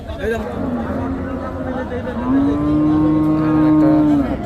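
A bull at the Paragram cattle market lets out one long, close, steady moo lasting about two seconds, rising out of the market's murmur after a brief lower call.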